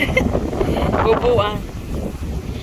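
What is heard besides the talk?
strong wind at Sylvan Lake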